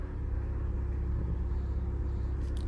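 A Nissan hybrid car creeps forward a short distance at low speed, producing a soft, steady low rumble with no speech.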